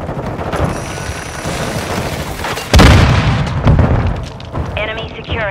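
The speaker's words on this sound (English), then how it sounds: "Hostile cruise missile launched." Cruise missile detonation in Call of Duty Modern Warfare II multiplayer: a sudden heavy boom breaks through constant gunfire and battle noise, then rumbles and fades amid ongoing combat clatter.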